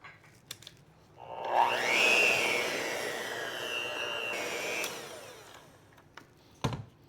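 Electric mixer beating chocolate cherry poke cake batter with water and vegetable oil: a whirring motor spins up, holds a steady whine for about three and a half seconds, then stops, with scattered clunks before and after.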